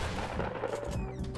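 Sniper rifle fired without scoping in a video game: a dense, loud gunfire blast filling the short clip, with ringing tonal tails and game effects layered over it.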